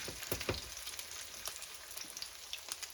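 Southern fish cakes fry in a pan over heat turned down to medium, a soft continuous sizzling hiss with a few louder spits near the start, no one talking.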